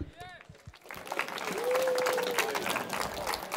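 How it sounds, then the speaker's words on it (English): An audience at a robotics session applauds as speaker Angel Hernandez is introduced, with clapping building and holding steady while a few voices and noises mix in. "Give a round of applause for Angel Hernandez."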